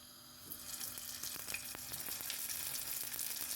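Homemade nems fry in oil in a pan over lowered heat, giving a steady soft sizzle with small crackles and pops, fairly quiet and close.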